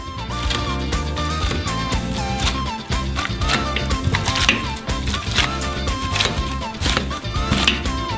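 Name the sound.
mashing boiled potatoes with a potato masher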